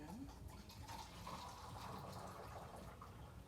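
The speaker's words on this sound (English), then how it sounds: "we have our hot water that's already boiling in the kettle. So we're gonna pour our water in." Boiling water from a kettle pours in one continuous stream, with a gentle gushing, filling sound that stays steady and close throughout.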